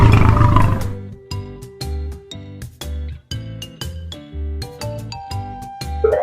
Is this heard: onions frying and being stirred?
no